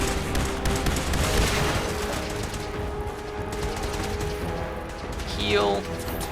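Gunfire and mechanical clatter rattle through a Fallout 4 fight, with rapid bursts and ratcheting sounds that come and go under occasional speech.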